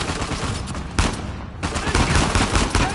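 Turret gunfire in Uncharted 4, a dense, continuous roar of rapid shots hammering almost without pause, loud and close, with a brief dip before the barrage resumes.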